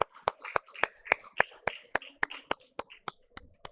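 Crisp claps ring out in a steady, evenly spaced rhythm, about three or four per second, close and fairly sparse, as the audience welcomes a Finance Ministry revenue official onto the stage at a CII tax-revenue session in India.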